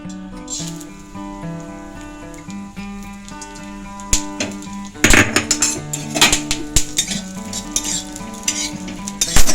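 Melon seeds fry in a little ghee in a kadai, sizzling steadily with tonal music in the background, then getting louder in the second half with repeated clinks and scrapes of a spoon against the pan.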